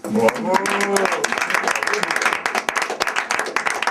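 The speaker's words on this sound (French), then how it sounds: "Applaudissez l'exploit pour moi et merci." Applause at a slam poetry performance, brisk clapping from a small audience mixed with voices and cheers throughout.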